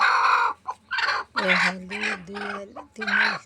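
A desi hen sitting down to lay eggs gives a run of loud, close, drawn-out clucks and squawks in uneven bursts, with short gaps between calls.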